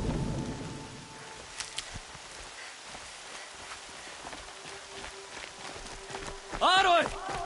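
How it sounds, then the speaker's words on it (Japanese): Soft rain hiss in the video game Horizon Zero Dawn, faint and continuous beneath scattered clicks, footsteps and a brief tonal chime near the end. "また雨か。"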